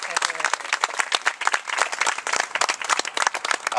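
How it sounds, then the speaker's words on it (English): A crowd at a Black Lives Matter rally in Fullerton claps for the Fullerton Police Department: dense, steady applause from many hands, close and loud for the whole stretch. "Let's give them a big round of applause."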